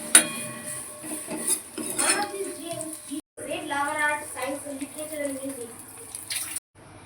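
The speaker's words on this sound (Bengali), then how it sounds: "এবার এই যে উপর থেকে যে তরকাটা দিয়েছি এটা মিশিয়ে দেবো এই ডালের সাথে" A spoon clinks and scrapes against a metal pot while tarka tempering is stirred into lentil dal, with soft liquid sloshing under a voice talking.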